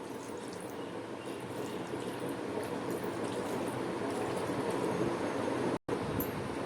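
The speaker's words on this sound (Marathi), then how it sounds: "आता हे पाणी टाकून धुवून घेणार आहे" Water pours in a steady, continuous stream for several seconds, splashing evenly, rinsing strained milk curds (chhena) in a cloth for homemade ras malai, with a brief cut near the end.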